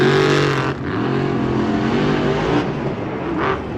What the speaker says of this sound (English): the final race of round number 1, Jurassic Attack, Paul Jensen taking on another independent in Preston Perez and Axe